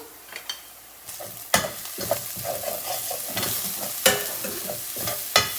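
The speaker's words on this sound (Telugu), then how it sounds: "ఆనియన్స్ మంచిగా ఫ్రై అయిపోయినాయి ఇప్పుడు నేను ఒకటి ఇంకా చేసుకున్నాను కదా జింజర్ గార్లిక్ ఇది వేసేసుకుంటున్నాను" Ginger garlic paste hits onions frying in oil for a ridge gourd and chana dal curry, setting off a steady sizzle with sharp stirring scrapes and clatters at intervals, close and loud with no voices.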